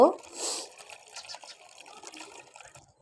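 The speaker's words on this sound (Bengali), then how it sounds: "নেওয়ার পরে তারপর আমি এখন দুধ ঢেলে নিলাম।" Warm milk for mango pudding is poured into a bowl in a brief liquid splash at the start, then faint trickling and dribbling under quiet kitchen background.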